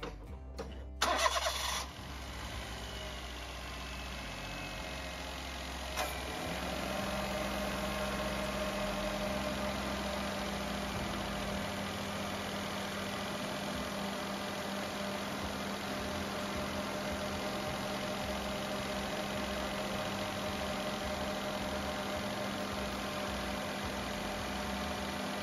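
A small Esse car engine cranks and catches after a belt replacement, then settles into a steady, even idle that runs on, close and continuous, with no talking.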